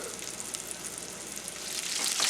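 Chicken frying in a pan with onions, a steady close-up sizzle and crackle that swells slightly louder toward the end, with no talking.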